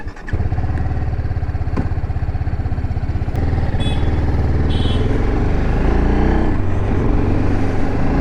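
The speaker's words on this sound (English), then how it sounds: "let's just quickly start this vehicle and see how does it performs" A TVS Apache RR 310 BS6 motorcycle, 2021 model, cranks and fires up, then settles into a loud, steady idle with a rhythmic engine throb and slight revving, heard close up with no talking.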